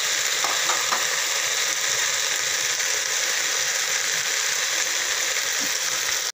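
Okra fries uncovered in a pan with a continuous, even sizzling hiss and a couple of faint clicks near the start.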